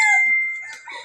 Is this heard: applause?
no